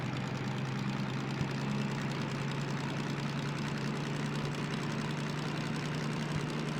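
A locomotive engine in a train simulator game running at high RPM, a steady loud low drone with a constant pitch, held evenly with no real rise.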